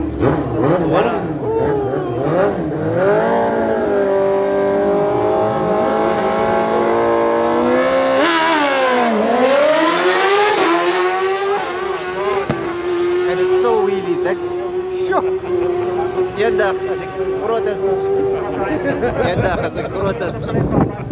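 A long-swingarm drag racing motorcycle screams down the strip at a drag day, its loud engine climbing through rapid gear shifts and sustained high revs, with people talking over it.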